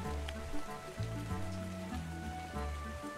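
Steady rain in the video game ARK Survival Evolved hisses softly and evenly under low droning game music, with no talking.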